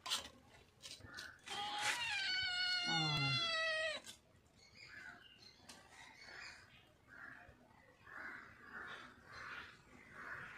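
A domestic cat meows loudly and close in a long drawn-out call, with a couple of shorter mews before it, then fainter household sounds and voices follow.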